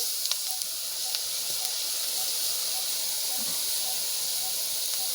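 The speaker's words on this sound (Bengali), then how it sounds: "আমি গরম কড়াইয়ে পরিষ্কার করা চিংড়ি মাছগুলো দিয়ে দিচ্ছি" Cleaned shrimp hit a hot wok and set off a steady, bright sizzle that holds for about five seconds, with a few small pops and crackles and no voices.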